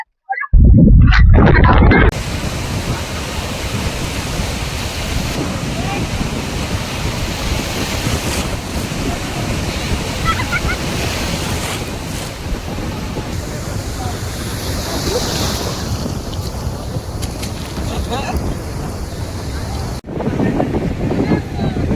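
Sea waves surge onto the shore at Digha beach on a breezy evening, a steady broadband wash of surf under constant wind buffeting the microphone, with a louder gusty burst at the very start.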